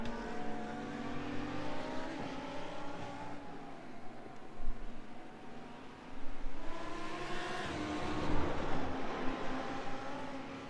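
GT1 and GT3 race cars howl around the Mid-Ohio circuit, engines wailing with rising and falling pitch as they pass and accelerate, loud and continuous for the whole stretch.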